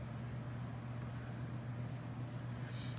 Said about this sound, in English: I'm just gonna quickly sketch this guy up.